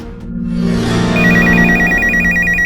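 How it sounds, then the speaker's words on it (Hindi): A telephone rings loudly and steadily, its repeating electronic trill sustained over a low hum, with no voices, as a call comes in to a television studio program. "ये आया हमारे पहले कॉलर का कॉल"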